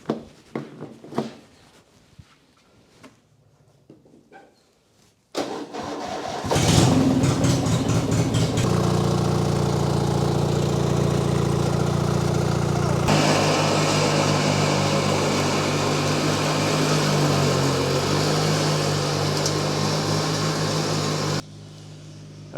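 A petrol lawn mower pulls into life after a few quiet seconds, then runs loud and steady near a vintage caravan, its engine note shifting once midway before cutting off abruptly at the end.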